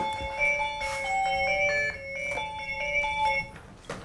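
Tonal melodic chime in a simple repeating tune, clear and prominent over faint background noise for about four seconds, with no speech, resembling a mobile phone ringtone.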